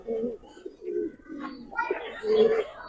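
Giribaz pigeons coo in low, soft repeated phrases at close range, with some higher chirping and a stronger coo near the end, as someone speaks faintly in the background.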